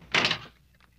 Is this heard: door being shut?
yes